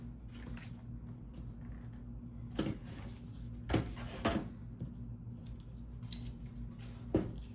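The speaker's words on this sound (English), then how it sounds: "That's our photo trimmer." A photo trimmer slices through a photo for scrapbooking, giving a few soft, short cutting clicks against a quiet room background.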